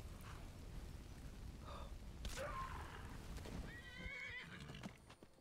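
A horse in the Skyrim video game whinnies and snorts amid clip-clopping hooves and low in-game rumbles, the calls fairly faint against a busy game background.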